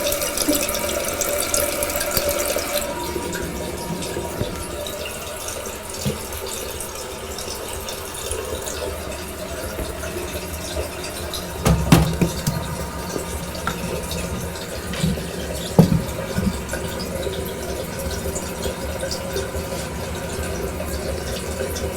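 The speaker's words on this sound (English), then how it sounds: "Let's flush it and see." Water rushing through household plumbing pipes fitted with a water hammer arrestor as a fixture is flushed, a steady hiss and flow with a few brief knocks and clunks partway through, no talking.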